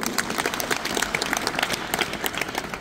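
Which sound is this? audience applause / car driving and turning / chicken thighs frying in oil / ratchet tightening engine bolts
audience applause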